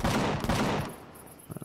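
A rapid burst of gunfire in the video game Empyrion Galactic Survival, loud and close, rattling for under a second before falling quiet, followed by faint clicks.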